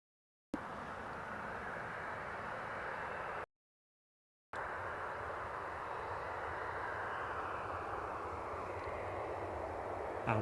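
Jet airliner with GE90 engines on the runway at Newcastle International Airport, a steady broadband engine roar that holds for the whole stretch with one short gap, and no voices.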